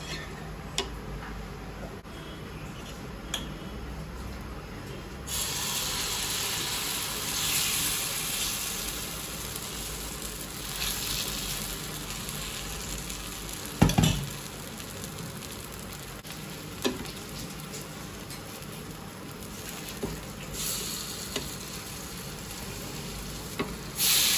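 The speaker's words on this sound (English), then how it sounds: "I am going to cook my uttapams in ghee" Onion and tomato uttapam batter sizzles in ghee on a hot pan, a steady broadband fry with soft ticks and one louder pop near the middle, with no talking.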